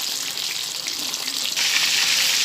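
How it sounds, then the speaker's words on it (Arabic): Breaded cordon bleu frying in a pan over medium heat, a steady close hiss of hot oil that swells louder near the end, with no talking. "واحمره على الوشين بالشكل ده ياخد اللون الذهبي"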